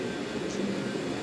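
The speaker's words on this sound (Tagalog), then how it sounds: "High speed train." A high-speed train in Saudi Arabia gives a steady, broad rumble with a continuous hiss, even and moderately loud throughout.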